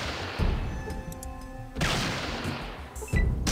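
Gunshots in the video game Fallout: three loud, sharp blasts spaced about a second and a half apart, each with a short decaying tail, over a steady game background with no talking.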